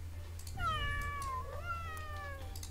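A single drawn-out cat meow from the Legion TD 2 video game, clear and upward-then-falling in pitch, heard alone over a low steady hum.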